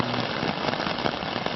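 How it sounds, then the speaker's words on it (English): Heavy rain pours onto hammocks on the Appalachian Trail in Georgia during a thunderstorm, a dense, loud, continuous hiss of drops close by with no pauses. "there's thunder, there's lightning, there's blowing, raining hard."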